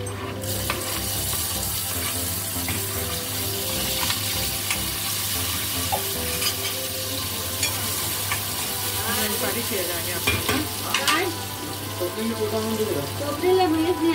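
Tomato goes into a pan of browned onions and fries with a continuous close sizzle, broken by occasional spoon scrapes and clinks, and a low hum runs underneath.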